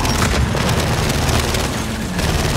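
A frag grenade blast in Gears 5, a dense, loud, continuous roar of low rumble and broadband noise that fills the whole moment with no distinct onset, like a sustained explosion wash.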